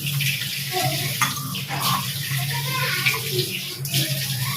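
Water added to fish masala in a cooking pot, a continuous running and splashing wash close by, with people talking over it.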